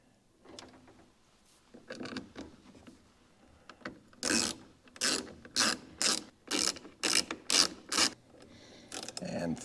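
A ratchet drives small Torx screws into a BMW X5 part under repair: a run of about eight sharp, evenly spaced ratcheting bursts, close and loud, after quieter handling clicks and rustle.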